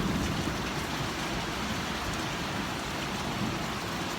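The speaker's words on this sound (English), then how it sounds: "this kind of rain, this nice gentle rain like this, boy, it really gives the plants a boost" Gentle, steady rain falls on a porch on a warm day, a soft continuous patter and hiss that stays even throughout with no talk.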